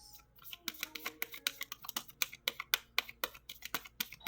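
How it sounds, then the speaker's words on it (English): A deck of cards is shuffled close by, making a rapid run of crisp flicks and riffling snaps in an uneven rhythm that carries on through the whole stretch. "I'm gonna do one more shuffle and then I'll just switch the decks."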